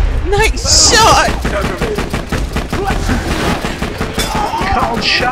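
Rapid, evenly spaced gunshots from Borderlands 2 crack out in a loud automatic burst lasting several seconds, close and punchy, with players' voices talking excitedly over the firing.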